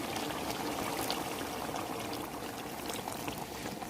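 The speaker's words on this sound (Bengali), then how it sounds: "এই গরম পানিটা এই মুরগিখানে দিয়ে দেব।" Hot water is poured into a pot of browned chicken curry, giving a steady, soft rushing splash that runs without a break for a few seconds, with no voices.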